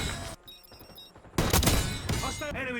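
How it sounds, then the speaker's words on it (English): Gunfire from a Call of Duty match, with a burst of sharp shots and loud booming reports over game sounds, ending in a chaotic stretch of noise. "Call of Duty is exactly the same. So satisfying to flick shots with a sniper rifle."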